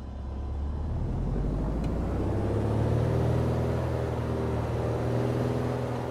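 A propeller aircraft engine in a flight simulator game revs up as the throttle is tested, a loud, steady droning rumble that swells and holds with a slowly shifting pitch, alone without talk.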